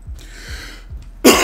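Hoarse, breathy coughs rasp quietly beneath game sounds and soft thuds, then a loud close cough bursts out at the end, with no talking.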